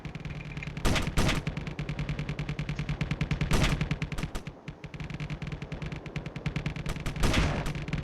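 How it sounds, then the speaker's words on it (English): Ship guns in the Space Engineers video game fire in rapid bursts, loud and close, with heavier volleys punching through a continuous rattle of automatic fire, with no talking. "the Naiad's remaining guns are going to have trouble getting through that welder reinforced front armor to hit the decoy"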